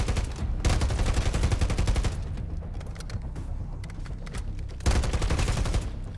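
Enemy gunfire in Modern Warfare III Zombies mode comes as rapid automatic bursts, loud and close. The firing eases into scattered lighter shots midway, then a dense volley returns.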